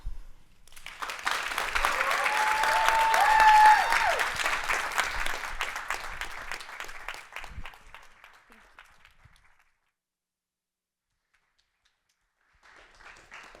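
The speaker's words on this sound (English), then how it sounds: "Let's give them another round of applause" An audience at a spring speaker event gives a round of applause for the speakers. The clapping builds, peaks, then thins out and stops, leaving silence before a faint sound returns at the end.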